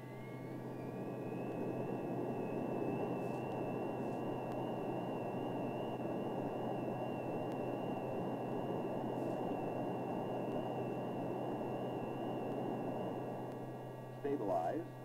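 A J57 afterburning jet engine on a test stand, throttle advanced to military power, gives a loud, steady broadband roar with a sustained high whine that holds for the whole stretch before easing at the very end.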